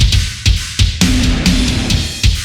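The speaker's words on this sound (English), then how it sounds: "And then I have the distortion. I'm using Sans amp." Heavily distorted drums via SansAmp, loud, crunchy hits repeating in a steady groove, snare and kick smeared with grit and a bright cymbal haze, no voices.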